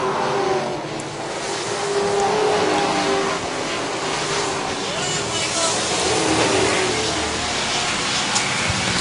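Racing trucks at Charlotte speedway, including Tyler Lang's and TJ Duke's, roar past in a steady, loud engine drone that swells and fades slightly as they come off turn four, with race commentary talking over the noise.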